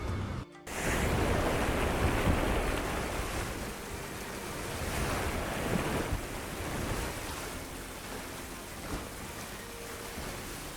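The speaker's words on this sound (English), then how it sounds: "processes that become even more complex and dangerous when carried out in the midst of a raging sea" Waves of a raging sea roar in a broad, continuous wash, with surging swells and spray mixed with wind over several seconds.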